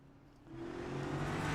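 Race cars in a sim racing game pull away from pit lane, engine drone rising in loudness and pitch over a second and a half, a steady building whir with no talk.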